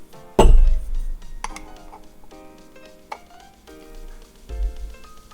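A spoon clinks against a mug as vegan creamer is stirred into coffee: a sharp strike, then several lighter ringing taps spaced a second or so apart, close and clear.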